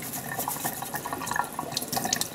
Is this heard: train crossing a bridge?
no